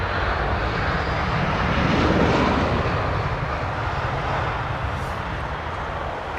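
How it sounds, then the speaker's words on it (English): An airliner approaches London Heathrow Airport to land, its jet engines producing a loud, continuous broadband roar that swells slightly mid-way and then holds steady. "extending the flaps and slats and configuring the aircraft for landing"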